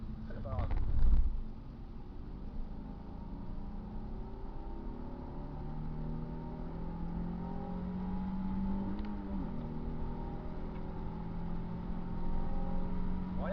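Nissan 350Z with 280 hp accelerating around the Bugatti circuit, its engine droning and rising in pitch from inside the cabin while an instructor talks over it.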